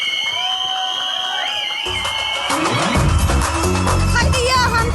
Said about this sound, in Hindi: एक बार जोरदार तालियां हो जाएं इस पूरी टीम के लिए।